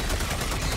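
Dense, loud, continuous gunfire from guns in the video game Helldivers 2, a rapid rattle of overlapping shots filling the short moment.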